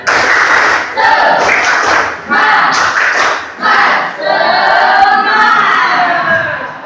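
A classroom of students performs a rhythmic spirit clap, loud and close, with bursts of patterned clapping and group shouting in several quick phrases, ending in a longer stretch of chanting voices.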